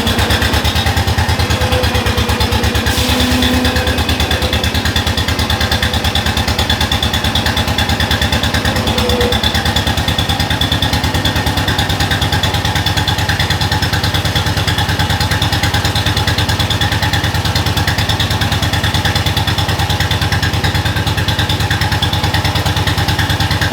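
Heavy loader engine runs steadily at a close, constant idle, a loud low rumble throughout with no talking.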